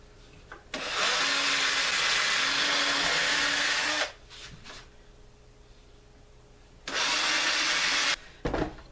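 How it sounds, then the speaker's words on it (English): A power drill bores holes into wood for a cheap homemade inkle loom, two loud sustained whining bursts close up, the first about three seconds long and the second shorter, with quiet handling in between. "let's drill each one of those in the center."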